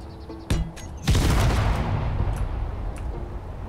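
A thermonuclear warhead detonates in Space Engineers: a sharp crack, then a loud, sustained explosive roar that rumbles and slowly fades over several seconds, with no one talking.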